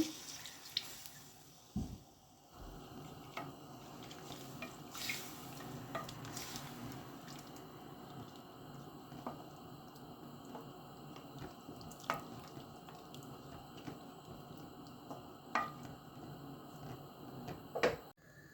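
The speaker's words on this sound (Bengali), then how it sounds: "পরিমাণ মতন জল দিয়ে দিচ্ছি জলটা গরম করে নিয়েছি" Heated water goes into a pot of chicken ghugni, a quiet sound of liquid splashing and dripping with soft stirring and a few sharp clinks against the pot, faint overall.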